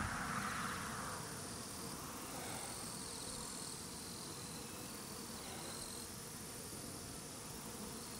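A swarm of Japonica honey bees fanning, a steady dense buzzing hum that stays loud and unbroken throughout, with no talk.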